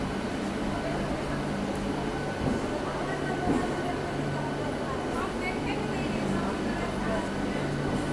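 A local train pulls into Barddhaman Junction station with a steady loud rumble and hum, and people talk faintly beneath it.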